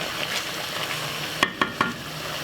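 Curry chicken with spinach being stirred in a pot, a steady low sizzle with three distinct spoon scrapes or clinks near the end, close by and without talk.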